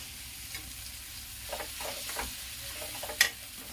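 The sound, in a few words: masala frying in oil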